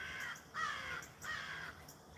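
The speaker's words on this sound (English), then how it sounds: "Apparently, the crows do too." Crows cawing outdoors at dawn, three harsh drawn-out caws in a slow series, fairly near and clear with no other voices.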